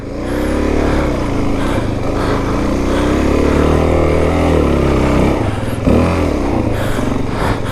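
A Suzuki DRZ dirt bike engine labors steadily uphill at low, grippy revs, a loud continuous drone close by with small throttle dips and no talking.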